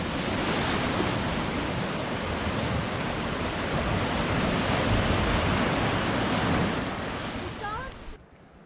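Ocean surf surges and splashes steadily inside a sea cave along the Rogue River coast, a dense, roaring wash that stays loud throughout before cutting off abruptly near the end.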